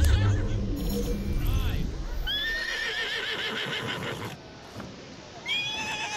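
A horse whinnies loudly in repeated rising and falling neighs in the video game Assassin's Creed Syndicate, with hooves clopping underneath and a voice speaking near the start.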